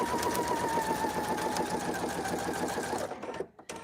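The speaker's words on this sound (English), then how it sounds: "Just sew that seam." A sewing machine stitches a seam on a zippered bag, a steady fast mechanical whir with rapid needle ticking, close and loud, then stopping abruptly near the end.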